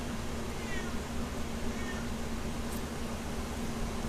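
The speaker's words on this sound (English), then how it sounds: "the cat is crying at the door" A cat meows at a door, two faint, drawn-out cries buried under a steady hiss with no one talking.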